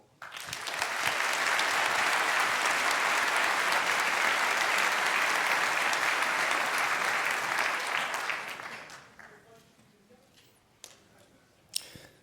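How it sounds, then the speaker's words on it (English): A large hall audience at a hacker congress gives a big round of applause welcoming a speaker; loud, dense clapping builds quickly, holds for about eight seconds, then fades to scattered claps and room noise. "Please welcome him with a huge round of applause"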